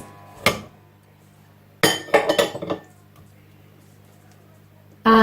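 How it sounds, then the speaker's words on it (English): Chopped cauliflower and peppers tumble into a cooking pot for a plant-based red Thai soup, with one sharp clink, then a short cluster of clattering knocks against the pot, and a final clink after a quiet stretch. "Then we add some cauliflower into the mix."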